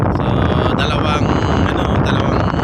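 Strong wind buffets the microphone on the deck of a ferry at sea, a loud, roaring rush that masks a low rumble of the vessel underneath and stays constant without pause.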